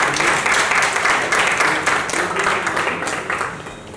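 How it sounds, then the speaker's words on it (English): Audience applause for author Ghazala Wahab at a Write Circle literary event in Agra, a steady burst of many hands clapping that fills the room and tapers slightly toward the end. "Can we have a round of applause?"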